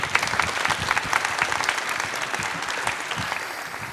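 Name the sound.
audience applause after a conference talk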